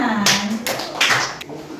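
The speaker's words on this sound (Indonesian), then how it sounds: "tepuk tangan" A few claps from a classroom audience of students, bursting in short uneven rounds with a faint voice underneath.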